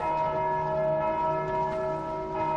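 Church-like bell ringing in the Undead Crypt of the video game Dark Souls, a sustained tolling tone with steady ringing overtones held loud and unbroken throughout, with no voices over it.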